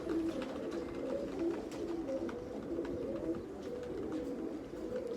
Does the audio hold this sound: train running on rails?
no